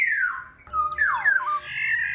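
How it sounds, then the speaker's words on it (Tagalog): Bright, chirping bird calls with sweeping squawks and trills, fairly close and continuous, no voices. "Huni kasi ito ng isang ibon."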